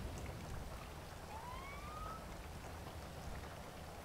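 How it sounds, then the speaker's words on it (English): Heavy full-on rain in the game GTA 5, a dense steady hiss filling the whole scene, with a faint siren-like tone rising briefly in the middle. "I increased it to full-on rain."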